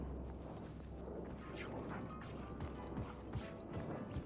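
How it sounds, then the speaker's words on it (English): Elevator moving in Alan Wake II: a low, steady mechanical rumble with creaks, rattles and occasional knocks and clanks, continuous and fairly quiet throughout. "The elevator would take me there."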